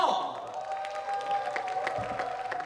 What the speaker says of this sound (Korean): 박수로 모셔보도록 하죠